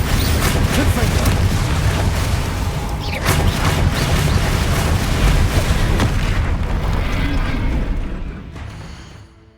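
Repeated Confringo fire spells in the Hogwarts Legacy video game set off heavy booming blasts and crackling bursts in a loud, dense barrage. The barrage thins and fades out over the last second or two.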